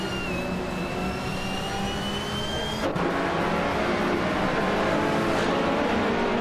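A 2014 Abarth 500 race car in Assetto Corsa drones steadily at speed, engine tone holding and shifting slightly, with a sharp change partway through as the pitch drops and the roar continues loud and unbroken.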